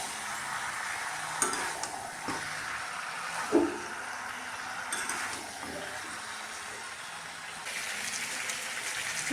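Chicken curry with potatoes stirred in a pan, a soft ongoing sizzle broken by scraping stirs and a few sharper knocks of the spoon against the pan.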